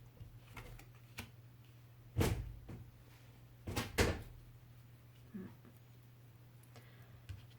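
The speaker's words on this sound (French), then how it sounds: "le chat essaye de forcer ma porte" A cat pushes and scrabbles at a closed indoor door, making a few sharp knocks and thumps, two louder bangs close together, then faint rattles over a quiet electrical hum.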